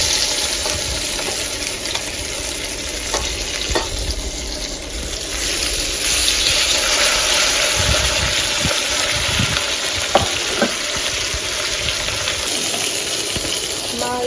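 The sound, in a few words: fish pieces frying in a pan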